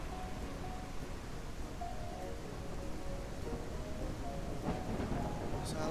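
Steady, loud rainfall of a thunderstorm in the game Ranch Simulator pours without pause, a broad hiss with faint low rumbling beneath it.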